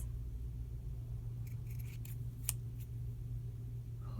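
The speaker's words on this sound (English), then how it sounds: "I think I'm gonna cut this lace" Scissors cut through lace in a few quick, crisp snips close by, over a steady low background hum.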